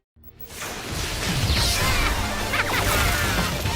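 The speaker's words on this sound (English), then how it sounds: "The sprite work and sound effects nail both franchises, from pulse rifles to predator arm cannons." Arcade beat 'em up combat effects from Alien vs Predator, with pulse rifles and Predator arm cannons: a dense, loud, continuous barrage of crashes, whooshes and thwacking hits layered over one another.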